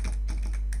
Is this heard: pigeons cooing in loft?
no